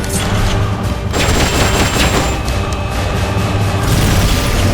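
Sustained bursts of Patriot rifle fire in Metal Gear Solid: Peace Walker, a dense, loud, rapid crackling fusillade over booming low rumble, continuous for several seconds.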